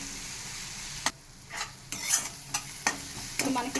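Potato and green chilli fry cooking in a pan on a low flame, with soft intermittent scraping stir strokes and light sizzling bursts against a quiet background, no voices.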